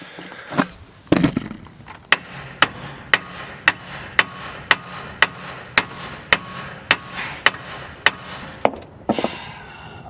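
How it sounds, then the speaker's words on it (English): Hammer blows on a car part after its bolts are undone, striking in a steady, evenly spaced series of sharp metallic hits, about fifteen in quick rhythm, close and loud with no talk. "Will it hammer out nicely?"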